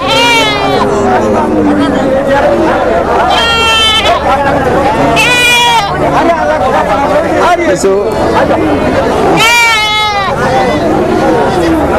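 Goats and their kids bleat loudly several times at a livestock market, their wavering cries rising over steady nearby chatter and someone talking.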